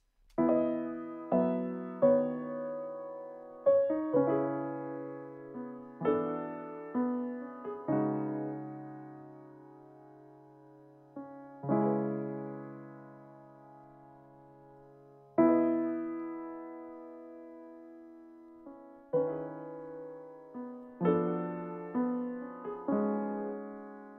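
Solo piano plays slow, gentle chords and notes, each struck then left to ring and fade before the next, with no voices.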